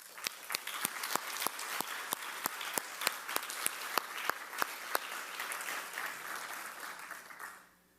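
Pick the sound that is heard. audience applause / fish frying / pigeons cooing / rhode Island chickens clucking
audience applause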